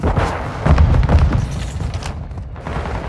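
A grenade goes off on the Shoothouse map in Call of Duty Modern Warfare 2 multiplayer: a deep, loud boom amid dense gunfire and rumbling, settling into scattered shots, with no talking.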